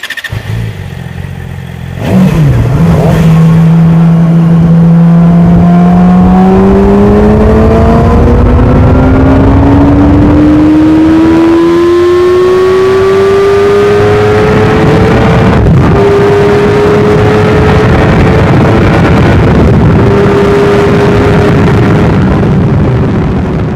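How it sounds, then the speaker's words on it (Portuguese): A Yamaha YZF-R6 sport motorcycle engine revving loud and close, its pitch climbing steadily through the gears with a brief shift dip, continuous and alone without talk. "deixar-vos esta pequena banda sonora juntamente com estas imagens da moto que eu fiz"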